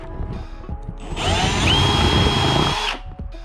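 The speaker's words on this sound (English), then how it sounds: "So what I'm gonna do is drill in a little bit and just kind of step it up." A power drill drilling a pilot hole whirs up to a steady high whine for about two seconds, then winds down; light handling noises before.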